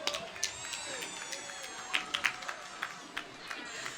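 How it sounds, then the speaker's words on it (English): A crowd lines the route of the Rochester Area Hometown Christmas Parade and claps for a passing dance studio pom team. Scattered claps and cheers sound over a busy outdoor din, with thin whistle-like tones running through. "Give them a big round of applause"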